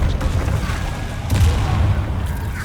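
Explosive spell blasts in the Hogwarts Legacy video game, a run of heavy booms and rumbling impacts with gunfire-like crackle, loud and close.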